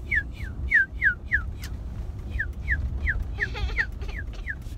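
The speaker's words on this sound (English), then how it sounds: "I'll do all the whistling apparently today" A person whistles a run of short, rising-and-falling chirpy notes in two bursts, fairly close and clear over a low rumbling background, with a brief stretch of other sound near the end.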